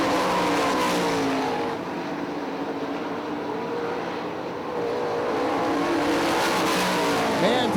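Sprint cars race at Hartford Speedway Park in Michigan, with several engines roaring together, rising and falling in pitch as they pass on the oval, loud and continuous with a commentator faintly under the noise.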